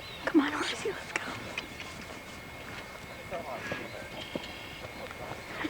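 Hooves of ponies at a Galena Pony Club of Northern Illinois riding event in Illinois clop faintly and irregularly in the distance beneath crowd chatter and outdoor background noise.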